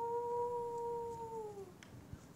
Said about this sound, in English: With a whistle that almost sounds like a howl